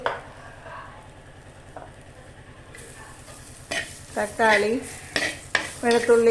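Tomato, garlic and ginger go into a hot frying pan for a fish curry, a soft sizzle beneath scraping spoon strokes that grow louder and more frequent toward the end.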